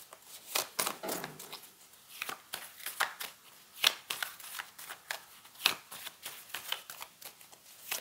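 Tarot cards shuffled by hand for a three-choice monthly reading: a steady run of crisp, close riffles and slaps in quick uneven rhythm, with almost no talking.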